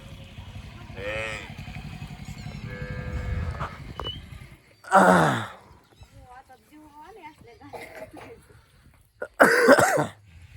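Two loud, harsh coughs ring out several seconds apart, close to the microphone, with a tractor engine rumbling in a farm field and quieter voices between them.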